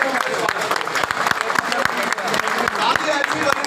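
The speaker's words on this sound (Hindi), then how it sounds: "तो एक बार जोरदार ताली से" Crowd of party workers clapping at a BJP political rally for a South Delhi candidate, steady dense applause with sharp individual claps throughout, fairly loud and close.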